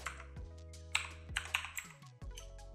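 Computer keyboard being typed on, several separate clicks and key taps spaced irregularly at close range over a faint electronic hum, quiet overall with no voices.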